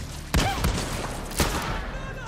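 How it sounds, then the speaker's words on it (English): Grenade explosions in Far Cry 6 boom twice in quick succession, close and loud, with sharp blasts over a busy rumbling background of gunfire and combat noise. "Will you stop with the grenades already?"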